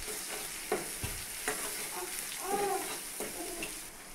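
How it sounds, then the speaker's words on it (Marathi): Turmeric and salt fry in hot oil in a pan while a spoon stirs them, making a quiet steady sizzle broken by soft scraping taps and a few faint bubbling pops. "त्याला फिरवून घेऊ।"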